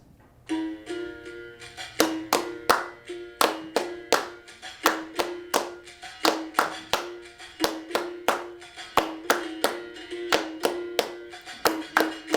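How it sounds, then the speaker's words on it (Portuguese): A recorded berimbau plays a steady, ringing tone while hands clap along in a regular rhythm in a school physical education lesson, the claps sharp, close and evenly spaced throughout. "E a gente vai seguindo o ritmo do berimbau com as palmas."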